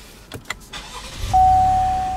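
A 2018 Cadillac XT5's 3.6-litre GM V6 engine cranks and catches, then settles into a steady idle hum, with a few clicks and thumps just before it starts.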